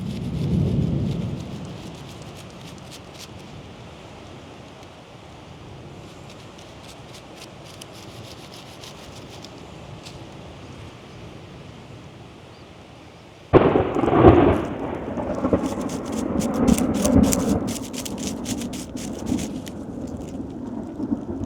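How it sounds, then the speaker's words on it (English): Outdoors, a thunderstorm rolls in: steady rain hisses for a long stretch, then a sudden loud thunderclap breaks in and the rain grows heavier and louder, with no talk. "Got a big storm rolling in."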